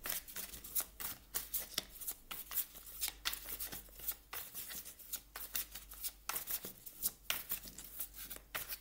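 Tarot cards are shuffled and drawn by hand in quick, repeated riffling bursts, close and fairly quiet, with no talk.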